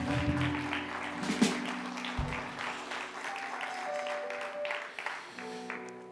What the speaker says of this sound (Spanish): Dale un fuerte aplauso a Jesús en esta noche.